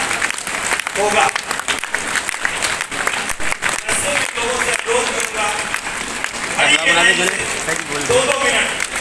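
A packed audience at a DXN product program in Banshi Bhawan, Allahabad, keeps up loud, sustained applause, with voices and crowd noise mixed into the steady clapping throughout.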